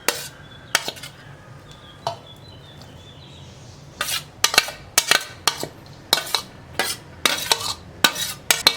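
Chopped vegetables, including grated carrot, tossed together in a bowl for mixed veg pakora: a quiet start, then a run of sharp, rhythmic scraping and clinking strokes, close up with no voices.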